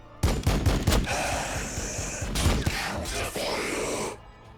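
Castigator tank unit of the Adepta Sororitas firing in Warhammer Battlesector, a loud burst of rapid, heavy shots with booming impacts, two clustered volleys across a few seconds, with a little voice underneath.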